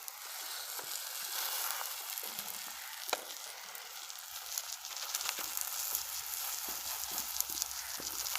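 Paratha frying in a pan over medium heat, making a steady close sizzle and crackle with small pops scattered throughout.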